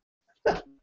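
A single short burst like a sneeze, loud and close, followed by a brief trailing voiced tail, with no talk during it.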